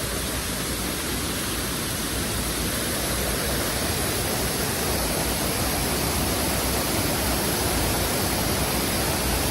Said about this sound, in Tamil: இதுதான் வந்து செமையான அருவி, பூலாம்பாறை